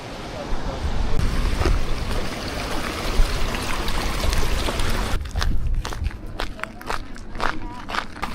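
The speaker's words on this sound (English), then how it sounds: "You can see the river down there." A river flows somewhere below a forest trail at a sunny clearing, a steady broadband rush that thins after about five seconds into sparser, scattered ticks and rustles.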